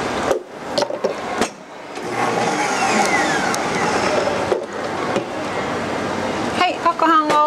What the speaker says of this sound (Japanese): まずこちらをブレンダーにかけて攪拌します。